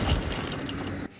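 A 6-ton concrete parking-structure slab comes down on cars and crushes them, making a loud sustained crunching and shattering roar that cuts off sharply at the end.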